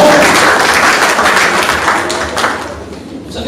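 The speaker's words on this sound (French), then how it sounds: "On va faire encore un maximum d'applaudissements pour le Manitou" A crowd at a French-speaking integration ceremony applauds loudly for an honoree, a dense, sustained wash of clapping that stays strong throughout and eases slightly toward the end.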